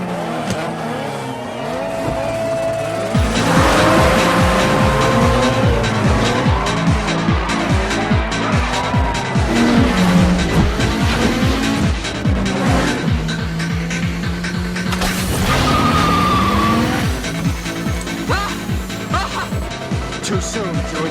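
Street race cars in a Fast and the Furious film scene: engines rev loudly and shift through gears, with tire squeal and a roaring pass, with music and brief voices mixed in.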